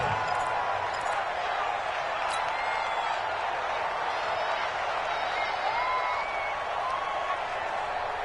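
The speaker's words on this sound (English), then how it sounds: "the crowd getting into it as we come up on a big 3rd down" A stadium crowd roars steadily in a football video game ahead of a big third down, a dense, constant wash of cheering with faint calls and whistles over it.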